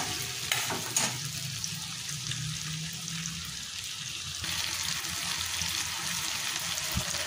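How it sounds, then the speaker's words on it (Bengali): Chopped tomato frying with chopped garlic and onion over low to medium heat for a Bengali pabda fish curry, a steady soft sizzle with a few stirring scrapes and knocks, close and continuous without talk. "রসুন পেঁয়াজের কুচির সাথে এই চপড টমেটোটা 30 সেকেন্ডের মতো ভেজে নিতে হবে লো টু মিডিয়াম হিটে"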